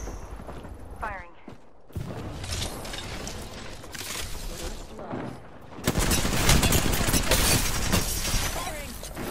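Bursts of video-game gunfire rattle through dense, noisy combat, with heavier sustained shooting in the second half, all under a player's ongoing voice.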